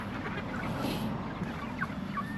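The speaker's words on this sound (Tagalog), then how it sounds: "dahil yung barako natin ay hinahabol-habol yung ating mga inahin" Backyard chickens cluck faintly in a yard as a rooster chases the hens, with a few soft, scattered calls over a low background.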